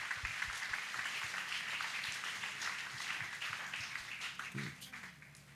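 A crowd claps and applauds at an outdoor salvation and healing crusade in Bafoussam, a dense continuous patter of many hands, fairly distant, with voices mixed in beneath.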